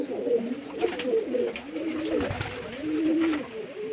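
A flock of pigeons coos repeatedly in low, rolling, overlapping calls nearby, with occasional wing flutters and light chirps in the background.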